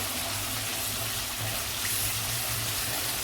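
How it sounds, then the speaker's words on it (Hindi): Two to three spoonfuls of water hit spices, salt and turmeric frying in a pan for dhaba-style daal mash, giving a loud, steady sizzling hiss that lasts throughout, with no talking. "थोड़ा सा पानी डाल देंगे, 2-3 चम्मच, ताकि जले नहीं मसाले"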